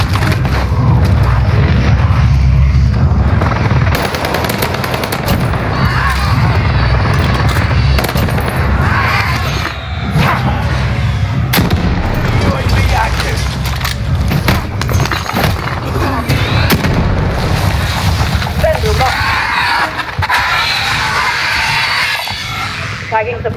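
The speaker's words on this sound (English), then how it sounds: "Enemy precision airstrike." Rumbling explosions from a precision airstrike in Warzone Rebirth Resurgence, loud and dense with scattered gunfire, cracks and debris, while an announcer voice and players talk over the din.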